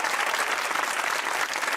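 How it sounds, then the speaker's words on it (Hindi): A studio audience at a Pakistani talk show claps steadily, a dense, even wash of applause filling the hall from start to finish without a break. "तालियां बजाए अपने लिए।"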